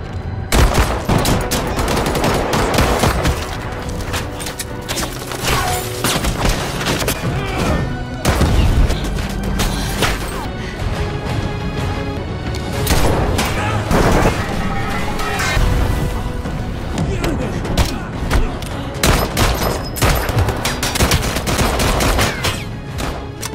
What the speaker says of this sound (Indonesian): Phil menembak pria pertama, memicu baku tembak sengit.